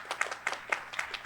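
A small audience at a finance panel discussion claps in a brief burst of several distinct, fairly close handclaps with an uneven rhythm.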